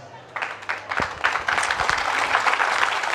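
An indoor audience bursts into applause for an association, clapping starting after a brief moment and swelling into steady, dense applause from a sizable crowd, heard fairly close.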